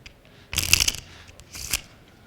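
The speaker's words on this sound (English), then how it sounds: "Just take the cards and mix them up." Playing cards shuffled by hand for a card trick: two short riffling bursts, the first longer and crisper, the second briefer, close and fairly quiet with no talk.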